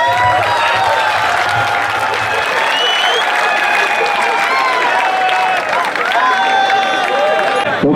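An audience at a police cultural programme at RTC Arakkonam claps loudly and steadily for several seconds, a dense sustained wash of applause with voices or tonal sounds carrying over it.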